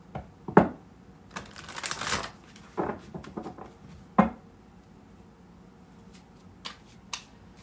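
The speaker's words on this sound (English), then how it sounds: "me give them another shuffle here." Tarot deck being shuffled by hand during a reading, soft irregular riffling and card slaps in short bursts, with a few crisp louder snaps, fairly close and quiet.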